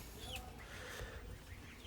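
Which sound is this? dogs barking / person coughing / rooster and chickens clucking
rooster and chickens clucking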